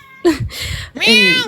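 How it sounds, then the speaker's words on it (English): A domestic cat meows loudly at close range, two or three drawn-out, rising-and-falling cries with a short spoken word between them. "sorry, that's my cat."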